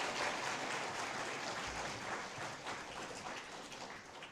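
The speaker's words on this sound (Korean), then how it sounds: "다시 한번 큰 박수로 환영해 주시기를 바랍니다" Applause from a church congregation at a Sunday service welcoming newcomers, a steady dense wash of many hands clapping at moderate level throughout, slowly easing toward the end.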